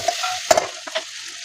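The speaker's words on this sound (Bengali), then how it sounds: "হয়ে গেছে আলু ভাজা।" Potatoes fry in a handleless iron kadai, a soft background sizzle punctuated by a few sharp scrapes and knocks of a spatula stirring against the metal.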